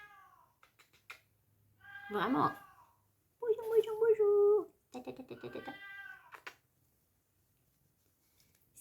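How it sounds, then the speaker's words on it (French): A small cat meows several times, short mewing calls and one longer drawn-out cry, close by, alternating with a voice talking to it in a quiet room. "Un petit chat est revenu."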